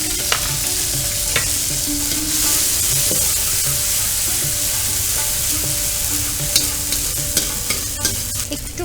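Ginger paste and green chilli paste fry loudly in a kadai, a continuous hissing sizzle broken by repeated scraping stirs and small pops.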